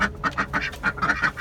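Backyard ducks quack repeatedly in a quick, uneven series of nasal calls, close and clear, with no talking.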